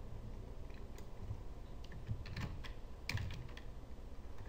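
Text is typed on a computer keyboard as a quiet, irregular patter of light key clicks with short bursts and pauses, faint against a soft background hiss.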